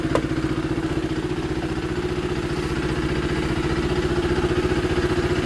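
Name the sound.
motorcycle engine running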